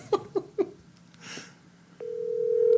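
A telephone sounds during a phone conversation: three short beeps at the start, then after a brief pause a steady, sustained electronic tone that holds and slowly gets louder to the end.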